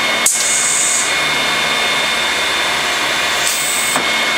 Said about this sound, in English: I can show you essentially the drilling cycle time